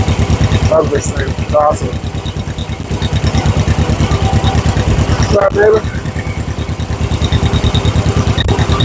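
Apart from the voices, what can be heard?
1956 John Deere 420 tractor engine running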